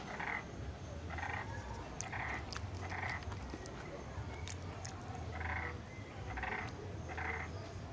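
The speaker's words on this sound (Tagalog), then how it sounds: "Narinig yan. May palaka." Frogs croak in rhythmic bursts, several calls in a row, then a pause before another run, moderately close over a low background murmur.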